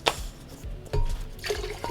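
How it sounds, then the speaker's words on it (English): Torn pieces of paper are pushed down into a container of water, giving a few close wet squelches and drips spaced over a couple of seconds, with no talking. "Rip it up into small pieces and push it down into the water."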